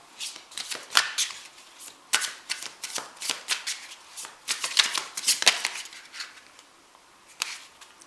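A deck of cards is shuffled by hand for a love card reading, making close, crisp bursts of riffling and flicking clatter in quick irregular clusters, with no talking.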